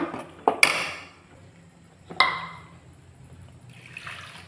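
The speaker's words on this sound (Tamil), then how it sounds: "இப்போ வந்து மிக்ஸி ஜார்லாம் கழுவி கொஞ்சம் தண்ணி சேர்த்துக்கலாம்." Water splashes in two quick bursts into cooking mushroom masala, one after another, followed by a soft hiss and light sizzle in the background.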